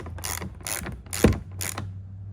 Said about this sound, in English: then you take your ratchet with your T30 and you just snug it down